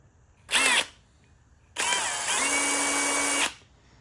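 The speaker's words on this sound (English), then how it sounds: "you can use the variable speed on your drill depending on how fast that you want to cut" A power drill with a sheet metal cutter attachment whirs in two bursts, a short one then a longer steady run of about two seconds, loud and close, with no talking.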